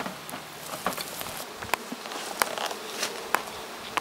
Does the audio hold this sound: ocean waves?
no